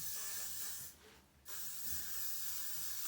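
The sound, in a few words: hairspray being sprayed on hair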